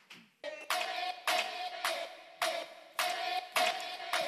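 A studio audience breaks into rounds of applause on a Korean variety talk show, inviting the girl group NewJeans to the stage, with loud bursts of clapping rising and falling in repeated waves over a steady tonal backing.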